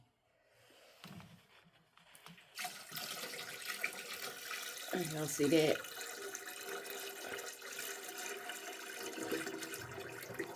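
Water pours steadily from a container into a Gardyn hydroponic planter's tank, a continuous splashing flow close by for several seconds while a person speaks briefly.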